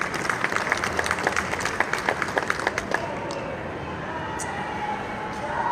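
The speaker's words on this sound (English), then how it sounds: "Let's give them a round of applause." Audience applause at a trucking industry trade show, a scattered patter of clapping for about three seconds that thins out and fades into a noisy hall murmur.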